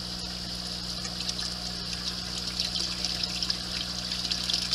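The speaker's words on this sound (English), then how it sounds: "very little splash, hardly any at all. It's still getting some good aeration out of the water there." Water falling from a no-splash drain pipe into a small aquaponics tank, a soft steady trickle with faint bubbling, continuous and low beneath a background pump hum.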